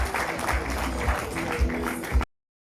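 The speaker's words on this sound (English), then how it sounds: "A round of applause as they come to collect" An audience at a risk management awards ceremony claps steadily as award winners come up to collect their award, a sustained round of applause that cuts off abruptly.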